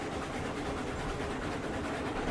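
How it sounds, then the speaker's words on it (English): Freight train in the video game RailRoads Online, a low steady rumble of rolling wagons, faint and continuous with no distinct clicks. "That is a freight train."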